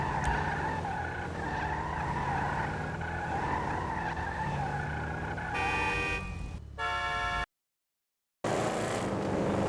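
A Bravado Buffalo car in a racing video game skids with a long, loud tire squeal over a rear-wheel-drive engine roar, then harsher screeching bursts, a sudden cut to silence and the engine noise returning.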